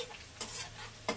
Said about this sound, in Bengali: কাঁচা লঙ্কা গুলো পেঁয়াজগুলো একসঙ্গে হালকা করে ভেজে নেবে।